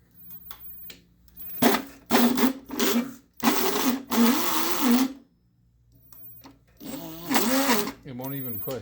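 A failing e-scooter hub motor strains in bursts, whining and grinding loudly as it runs backwards under full throttle, with pauses between the surges.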